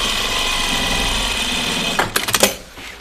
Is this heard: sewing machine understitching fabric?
yes